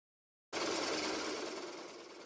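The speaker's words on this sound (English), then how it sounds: "I'm drilling out the knots here so I don't have to deal with it while I'm planing." A drill bores out knots in a wooden workbench piece, starting abruptly with a loud, steady whir that gradually eases off, close by and without talk.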